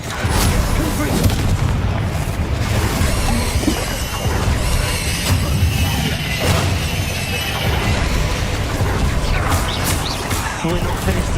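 Confringo fire spells burst from a wand in the Hogwarts Legacy video game, producing loud, repeated explosive booms and crashes that follow one another through the stretch over dense game effects.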